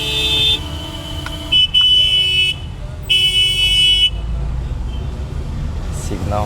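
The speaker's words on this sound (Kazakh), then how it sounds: "Сигналдар бере береді." Car horns honk in morning street traffic in Cairo's Giza district: three loud, sustained blasts stand out over a steady road rumble, with a shorter, fainter toot near the end.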